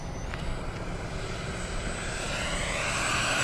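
A small E-flite F-16 70mm electric ducted-fan RC jet in flight, a steady high-pitched whine with a constant tone that grows slightly louder toward the end, heard alone with broadband rushing noise.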